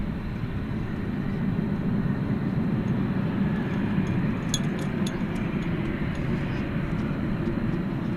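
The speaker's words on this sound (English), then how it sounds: "A 20th century 777." Boeing 777 airliner arriving at DFW Airport at night after a flight from London, a steady broad engine roar holding at an even level throughout, with a few faint clicks partway through.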